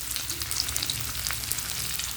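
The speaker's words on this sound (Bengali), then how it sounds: "এবার একটু নেড়ে চেড়ে ভেজে নেব" Small diced potatoes fry in a pan with a steady close sizzle, broken by light crackles and occasional stirring scrapes.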